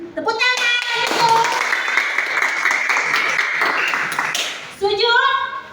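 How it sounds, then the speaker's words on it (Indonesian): A primary school class claps hands together during a lesson on prayer movements, rhythmic clapping under children's voices and a teacher talking, with a burst of kids' speech near the end. "Tepuk tangan ibu."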